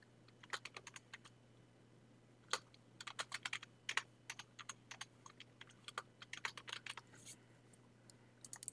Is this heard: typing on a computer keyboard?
yes